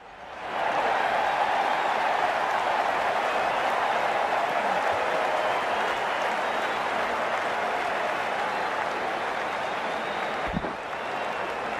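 A cricket crowd at a Test match between West Indies and Zimbabwe applauds in a steady, loud, dense wash of clapping that holds for the full length with little change.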